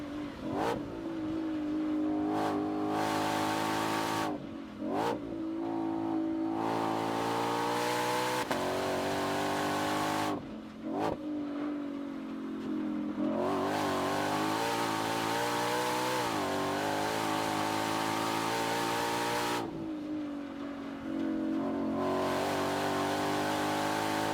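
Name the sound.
Ford Mustang GTD engine revving, loud exhaust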